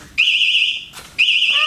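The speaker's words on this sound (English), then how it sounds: "Fire, smoke detector." A smoke detector alarm sounds two loud, piercing high-pitched beeps separated by a short gap, close and harsh, with no talking.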